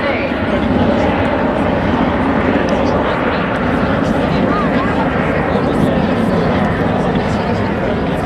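An RAF Chinook helicopter makes its final display pass at the Cosford Airshow, a loud, steady, broad rotor and engine roar sustained throughout with a crowd at an outdoor show.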